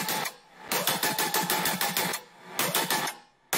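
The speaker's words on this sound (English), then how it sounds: "It's just basically an FM pluck." An FM pluck from the Serum synth plays rapid, evenly spaced notes in short bursts separated by brief pauses, with automated panning and reverb adding a sweeping effect.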